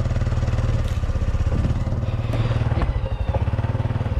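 A motorcycle idles nearby with a steady, putt-putting engine rhythm that holds throughout at moderate loudness.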